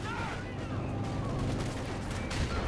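Grenade blasts and rattling gunfire from a Company of Heroes 2 battle, a dense continuous din of small-arms fire with a heavier burst near the end.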